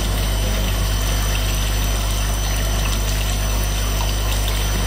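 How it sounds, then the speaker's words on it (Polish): Water pours steadily into a hatching jar holding freshly fertilized zander eggs at a fish hatchery, a loud, continuous rush with a low pump-like hum underneath, with no talking. "Puszczamy wodą."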